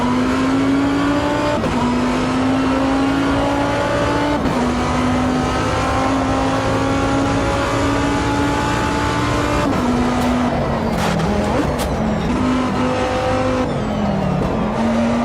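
Race car engines scream through an F1 25 racing video game session, one loud engine held near and revving up and down through gear shifts, with other cars passing and an overtake.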